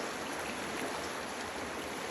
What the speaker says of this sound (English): You can hear Abrams Creek in the background.